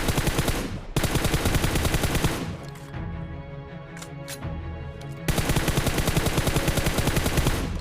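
Rapid bursts of automatic gunfire in PUBG Mobile rattle loudly, pause for a few seconds of quieter rumbling with scattered shots, then resume in a sustained volley.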